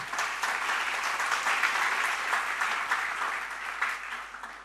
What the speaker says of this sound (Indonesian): Beri tepuk tangan buat Tuhan.